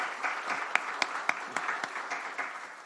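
Church congregation applauding during a Sunday worship service to thank a soloist, a steady wash of many hands clapping with a few sharper individual claps standing out, moderately loud and continuous throughout.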